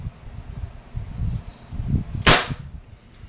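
A single sharp crack from an Umarex Beretta APX airgun rings out after low rumbling handling noise, a brief bright report followed by quiet.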